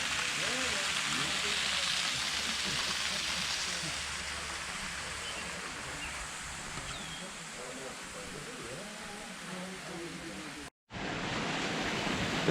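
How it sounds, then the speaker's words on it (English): Little Box Canyon waterfall rushes in a steady, broad hiss of falling water heard from some distance, holding constant through the clip apart from a brief cut near the end. "you can at least hear it. Little Box Canyon waterfall."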